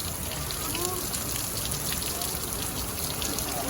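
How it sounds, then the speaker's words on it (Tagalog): Hail pelts down across a city in California, a dense, steady hiss of countless small impacts that stays loud and even from start to finish. "Ngayon lang namin na-experience umulan ng ganito karaming yelo"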